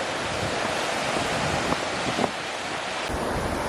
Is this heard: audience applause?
no